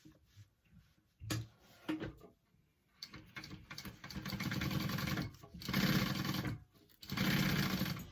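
Sewing machine basting pieces of a clutch bag runs in several bursts of steady rapid stitching, separated by short pauses and handling noises, fairly close and without talk.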